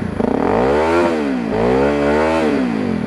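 A Honda CRF250L motorcycle fitted with an FMF Powercore 4 exhaust and quiet insert revs up and down several times close by, its engine note rising and falling in loud, steady sweeps with no talking.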